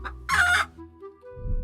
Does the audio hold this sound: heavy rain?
no